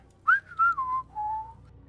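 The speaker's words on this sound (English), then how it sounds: "Everyone is woken up to the sounds of her whistling." A person whistles a short, clear tune of a few sliding notes that fall in pitch, close and alone against a quiet background.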